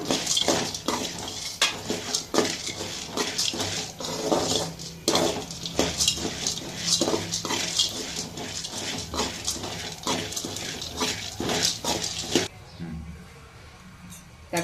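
Urad dal dry-roasting in a pan for pirandai chutney, stirred steadily with dense rattling scrapes and clinks close up, the clatter running continuously before stopping abruptly near the end.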